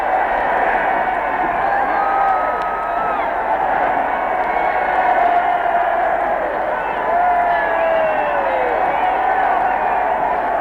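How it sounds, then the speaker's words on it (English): A large crowd outside Buckingham Palace in London at midnight cheers and roars continuously, a dense, loud wall of voices with whistles and shouts, steady throughout. "Listen to the acclaim of the crowd."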